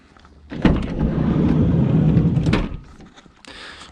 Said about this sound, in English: I'm gonna open the big slidey door